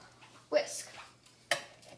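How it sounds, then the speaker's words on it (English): Ingredients for cookie dough being mixed in a bowl, with a sharp clatter and scrape of a whisk or fork at the start and another brief knock against the bowl later, near and moderately loud. "you're just gonna mix them all together"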